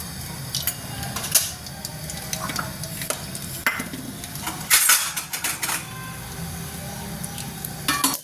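Mustard seeds dropped into hot oil for a Gujarati patra tempering sizzle and crackle steadily and close up, with scattered sharp pops and spits throughout.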